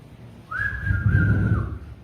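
A single sustained whistled tone, steady in pitch with a slight dip at the end, over a low rumbling background.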